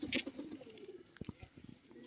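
Soft, low pigeon coos repeat nearby inside a loft, joined by a few light thumps and rustles in an otherwise quiet space.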